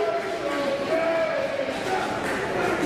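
A wrestling crowd at TCPW Pandemonium 2 roars in a steady, dense wash of cheering and shouting that holds at a constant level throughout, with no single voice standing out.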